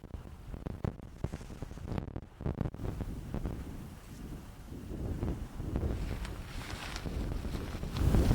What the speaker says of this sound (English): Super windy and ugly from the north